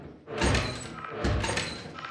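A door opening in a video game: a heavy thud-like rumble, then a second similar surge about a second later, near and fairly loud, with no talking.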